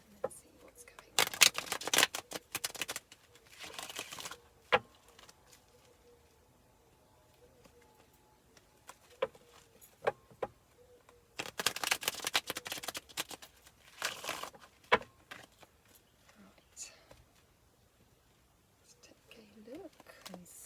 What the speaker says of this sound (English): Let's take a couple more shuffles and then see what's going on.